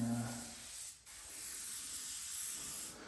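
An airbrush sprays white paint in a steady close hiss lasting nearly three seconds, with a brief break near the start.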